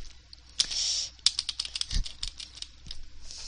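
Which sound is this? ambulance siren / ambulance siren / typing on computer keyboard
typing on computer keyboard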